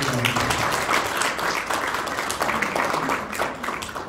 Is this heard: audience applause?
yes